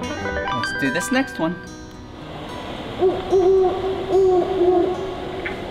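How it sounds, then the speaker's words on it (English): A great horned owl's deep hoots, played from a button on a children's museum exhibit, come in a steady series of low calls after a stretch of speech, fairly close and clear. "Yep, the great horned owl."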